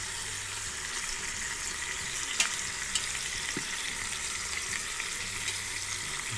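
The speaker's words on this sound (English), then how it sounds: "Righty, let's get these flipped over, see how brown they are." Country-style beef ribs sear in an Instant Pot with a soft, even sizzle throughout, broken by a couple of faint clicks as the pieces are turned.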